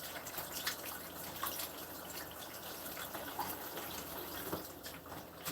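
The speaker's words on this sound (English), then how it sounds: "let me wash my hands." Running tap water splashes steadily while hands are washed in a kitchen, a continuous moderately loud gush with small surges and no talking.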